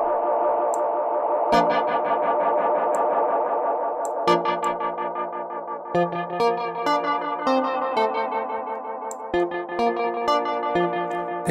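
Notes played through a vintage tape echo plugin repeat in cascading delays, with a distorted, chorused tone and overlapping echoes trailing behind each attack.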